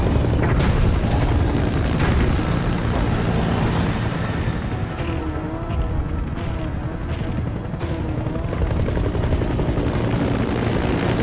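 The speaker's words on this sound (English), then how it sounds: "Extraction support helicopter requested." A loud, continuous helicopter rotor roar with deep rumbling thumps fills the whole stretch, steady and close, with a low booming undertone, from an extraction support helicopter in Metal Gear Solid V: The Phantom Pain.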